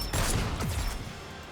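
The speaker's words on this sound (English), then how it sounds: "The walls of the base come crumbling down, and there is a hail of gunfire." Base walls crumbling under a hail of gunfire in the video game Goddess of Victory: Nikke, a burst of heavy rattling shots and crashing debris that fades into a dying rumble.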